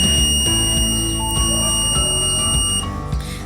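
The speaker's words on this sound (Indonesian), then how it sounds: "sehingga buzzer di rumah juga menyala selama 5 detik dengan frekuensi yang dapat didengar oleh telinga manusia" A loud electronic buzzer on a microcontroller project drones continuously with steady, shrill tones, holding at an even level throughout.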